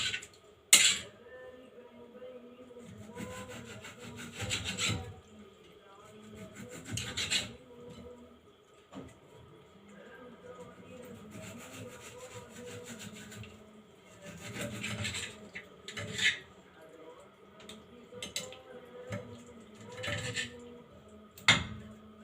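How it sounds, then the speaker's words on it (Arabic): Kitchen knife slicing raw chicken breast into cubes on a board, with a series of near, rasping cut-and-scrape strokes arriving in irregular bursts and short pauses between. "هنقطع بقى صدر الفرخه ده. انا طبعا هقطعه مكعبات كده."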